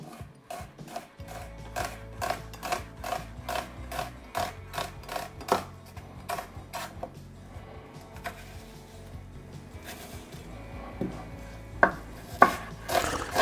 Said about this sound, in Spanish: Primer paso, picar la cebollita